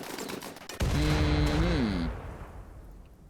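Turrets firing in the video game RimWorld: a sharp report followed by a dense rattle of shots layered with a whining, pitch-bending tone, fading out after about two seconds.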